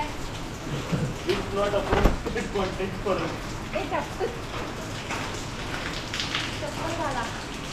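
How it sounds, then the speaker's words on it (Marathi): Steady rain patters and hisses outdoors during a Vat Purnima outing, with a few sharper drops or knocks standing out and voices talking now and then under the downpour. "पाऊस आहे."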